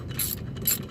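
A ratchet clicks twice in quick, close, crisp bursts while a wheel stud lug nut is removed on a 2000 Cadillac Seville.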